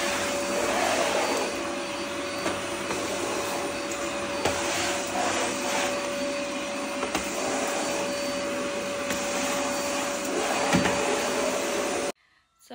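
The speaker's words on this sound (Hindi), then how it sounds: "तो मुझे वैक्यूम क्लीनर भी चलाना है," A household vacuum cleaner runs steadily on a dirty floor, a loud, continuous broadband whine with a constant tone, close by and uninterrupted until it cuts off abruptly at the end.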